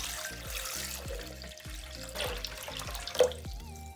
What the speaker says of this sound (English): now we're going to pour water up to 1 liter mark over there